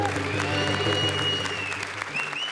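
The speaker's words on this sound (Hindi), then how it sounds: "जोरदार तालियां" Loud audience applause fills a comedy show stage in a continuous burst of clapping, with a steady musical tone and voices running underneath throughout.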